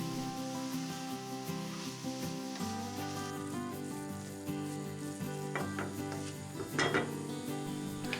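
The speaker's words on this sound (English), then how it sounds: "Roughly mix the mince with the onions for now." Lean 5% fat minced beef stirred and roughly mixed with onions in a hot oiled pan, a steady close sizzle with light scraping and stirring knocks throughout.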